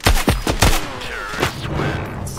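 Gunfire in a shooting video game, several sharp, loud shots in quick succession followed by a softer echoing tail.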